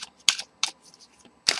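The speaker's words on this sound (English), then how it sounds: "I'm just gonna shuffle the cards" Tarot cards shuffled by hand, a few sharp papery riffles and snaps separated by short quiet gaps, close and fairly loud with no talk.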